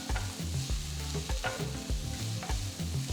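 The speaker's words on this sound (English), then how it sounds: "Sauté these ingredients." Chopped onion, green chilies and ginger sizzling in hot oil in a pan, with repeated scraping stirs of a spatula, close and continuous.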